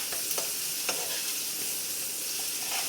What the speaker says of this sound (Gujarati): આ બધો એની મસાલો વઘાર નાખ્યો.